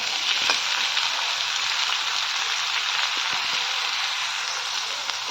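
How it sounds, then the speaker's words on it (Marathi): Onion fries in oil with red chillies in a pan, giving a loud, even, continuous hiss close by with a few faint ticks, and nobody speaks. "कांदा लाल करून द्यायचा आता थोडा हे बघा आता कांदा इथं परतलाय"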